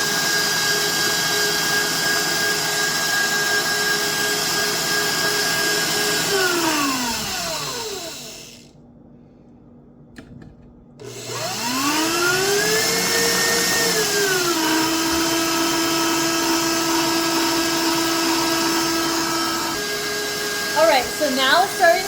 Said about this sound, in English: as soon as you notice it's starting to separate, make sure to turn your KitchenAid down